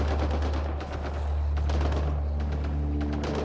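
Gunfire in the sci-fi shooter Mass Effect Andromeda, rapid distant shots and bursts layered over a steady low ambient drone, fairly loud throughout.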